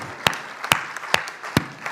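Scattered hand claps from a Hindi poetry recital audience, a handful of sharp, separate claps spaced about half a second apart rather than a full round of applause, fairly close and moderately loud.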